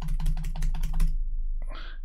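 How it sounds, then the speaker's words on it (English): Rapid keystrokes rattle on a computer keyboard in a quick, steady stream, close and clear, then stop, followed by a brief faint tone. "I know this is just silly me typing very fast on the keyboard"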